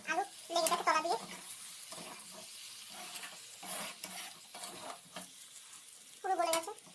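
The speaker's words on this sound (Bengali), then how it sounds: "লঙ্কা বাটাটা দিয়ে দেবো, নাড়াচাড়া করে নেবো।" Potatoes and chili paste stirred in a hot frying pan, a soft continuous sizzle with scraping strokes of a spatula, under a voice talking intermittently throughout.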